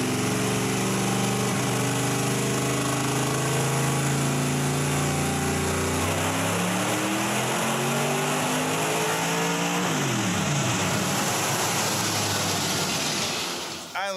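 Supercharged 1,100 hp aluminum Hemi engine pulling on a dyno in Mooresville, North Carolina: a loud sustained roar climbing in pitch, then the throttle lifts and the engine drops off near the end.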